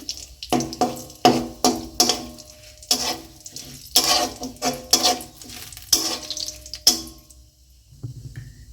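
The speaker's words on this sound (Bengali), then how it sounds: "একটা তেজপাতা এটাকে ভালো করে একটু ভেজে নেব তেলের মধ্যে" A bay leaf fries in hot oil in a home kitchen, with a run of rhythmic scraping stir strokes and sizzling bursts that stop near the end.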